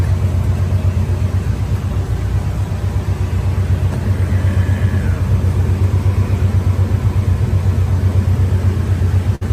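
A muscle car engine idles steadily and loudly up close, a continuous low rumble with no revving, heard inside a tin building with no talk over it.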